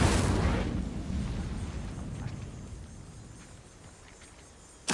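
An Incendio fire spell cast in a Hogwarts video game bursts out as a loud, low, rumbling whoosh that slowly fades over several seconds, ending in a short sharp thump.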